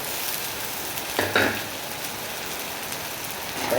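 Ginger, garlic and chopped tomato fry in oil for a spicy bata fish curry, making a soft, even hiss broken by a brief clatter of stirring partway through.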